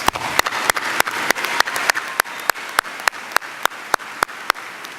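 Commencement audience applauding graduates, sharp individual claps standing out in a rhythmic, fairly close pattern over a thinning bed of applause that fades toward the end.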